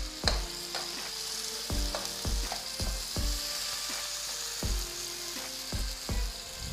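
Sliced tomatoes hit onions frying in a pot for a beef yakhni pulao, giving a steady sizzle broken by a series of sharp, close utensil knocks and scrapes against the metal pot.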